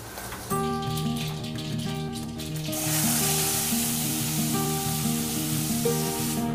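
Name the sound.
wheat pods sizzling in hot tempering oil in a kadhai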